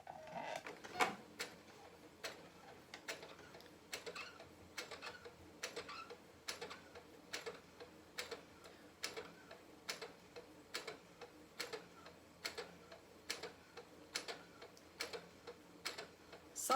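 A sewing machine runs a slow straight stitch, giving a soft, evenly spaced ticking in a quiet room, each stitch a light click repeating at a steady, unhurried pace.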